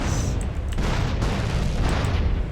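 Explosions in the video game GTA 5 roll out as loud, continuous booming blasts with overlapping rumbles and bursts that fill the whole stretch without a break.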